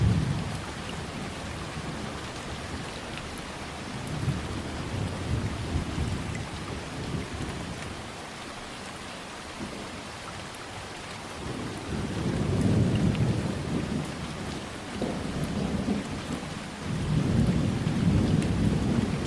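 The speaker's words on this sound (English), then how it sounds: "the weather changes on April 5, the first heavy showers introducing the start of the rainy season." Heavy rain showers marking the start of the rainy season, a constant hiss of downpour on surfaces with low rumbling thunder rolling in and swelling in several long waves, no voices present.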